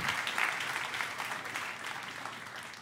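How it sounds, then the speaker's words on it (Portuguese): A church congregation applauds, a steady wash of clapping from many hands that fades slightly toward the end. "Dê um aplauso ao nosso Deus."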